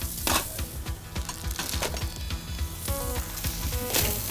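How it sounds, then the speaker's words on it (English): Lamb kebabs sizzle over barbecue coals with fat melting off, a steady close crackle dotted with sharp pops and spits throughout. "now the fat's melting off those kebabs"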